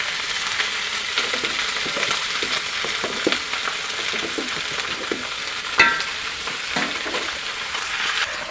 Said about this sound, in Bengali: ডালটাকে চলো আমি একটু ঘাইতে দিই।